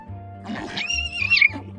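A synthesized horse whinny serves as the cry of a fire horse Pokémon-style creature, a loud rising neigh with a shrill, wavering peak that trails off over a low steady hum, with no talking.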